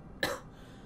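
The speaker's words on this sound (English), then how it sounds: "that's one bad cough." A single sharp cough from a person with a cold, close and fairly loud, lasting a fraction of a second before fading into quiet.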